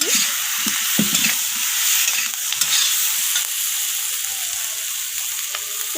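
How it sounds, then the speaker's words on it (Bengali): A spatula stirs and scrapes through cabbage, spinach and bottle gourd greens cooking with ginger and salt in an oily pan, producing a steady sizzle broken by repeated short scrapes and clinks close by. "তো আদা আর লবণটা দিয়ে আমি আবারও নাড়াচাড়া করে কষিয়ে নিচ্ছি।"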